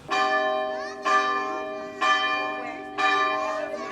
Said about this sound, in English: Enough about the bell.